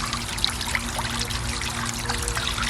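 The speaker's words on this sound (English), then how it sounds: "then the water come out like this." Water from an ECO-WORTHY 12 W solar fountain pump pours and trickles steadily, with small splashes and drips over a constant low pump hum.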